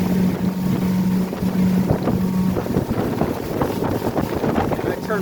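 A 2021 Bentley Cruise 220 pontoon boat under way on its Suzuki 140 outboard, with a steady motor drone, water rush and heavy wind buffeting the microphone. A voice is faintly present.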